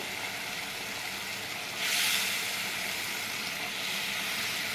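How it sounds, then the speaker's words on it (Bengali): Eggplant pieces fry in a bubbling spice mixture for a Bengali begun bahar, giving a steady, close sizzle that swells louder near the middle as more pieces hit the pan, with no talking. "এবার আমি বেগুনগুলো একটা একটা করে দিয়ে"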